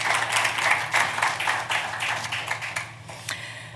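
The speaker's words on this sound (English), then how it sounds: "maybe they deserve another round of applause." Applause from an audience at the official launch of a global health equity research institute, moderately distant, with dense, uneven clapping that swells and then thins out toward the end.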